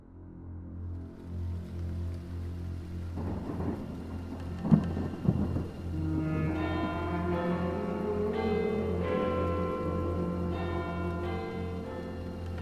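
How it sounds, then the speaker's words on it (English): Rain and thunder in a dramatised audio play: steady rainfall throughout, with rumbling thunder cracks building in the first half and a background tone or bell-like music rising later, with no voices. "It was a dull, rainy day"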